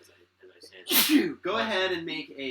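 A person sneezes once, loud and close, amid lively talk among tabletop role-playing game players, with voices continuing right after.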